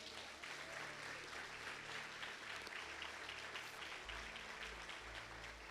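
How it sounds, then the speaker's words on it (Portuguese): Congregation applauding in a church, a continuous, dense patter of clapping heard faintly and at a distance, with a low hum underneath. "Você pode dar um salve de palmas ao Senhor?"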